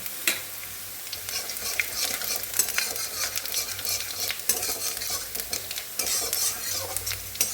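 Panch phoron seeds sizzling in hot oil for a vegetable dish, a busy crackling hiss with repeated clinks and scrapes of a utensil stirring in the pan, close up and without speech.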